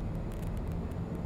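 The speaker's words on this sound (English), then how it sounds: "Sounds very sort of throaty engine, almost like a V8, but just not quite the tone." A modded Scania R480 truck engine in Euro Truck Simulator 2 gives a steady, faint, low throaty drone with no talking.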